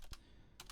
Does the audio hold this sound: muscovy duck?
no